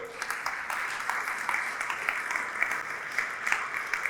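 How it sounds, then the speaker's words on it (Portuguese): Steady applause from a church congregation, dense clapping that holds for several seconds at an even level with no voices on top. "Você pode aplaudir o Senhor?"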